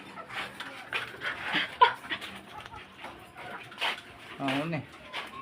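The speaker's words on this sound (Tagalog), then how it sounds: "May isa akong aso dito." Brownie, a shaggy, playful dog, pants and whimpers close by in short irregular bursts while a person talks over it.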